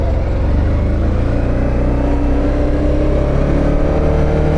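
A Can-Am Outlander 1000R MAX XTP riding up the block, its engine droning loud and steady from close by for the whole stretch, with no one talking.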